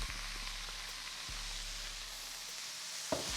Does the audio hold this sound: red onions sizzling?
yes